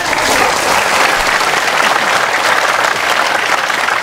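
A retreat audience in Hawaii claps steadily and loudly for about four seconds, a dense, even wash of many hands with no voices over it.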